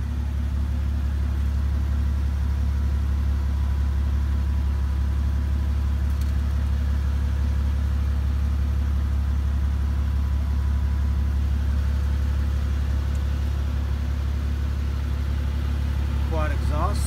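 A 2017 Mercedes G65 AMG with a V12 engine idles through its quad exhaust, a steady low rumble holding throughout at close range with no revving.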